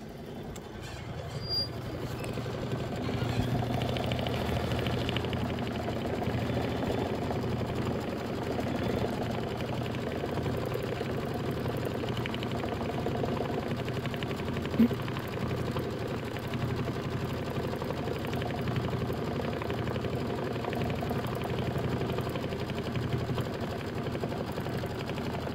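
An embroidery machine quilting a Kimberbell pillow block, a steady mechanical whir with a faint rapid stitching pulse, running on continuously at moderate volume with no talk.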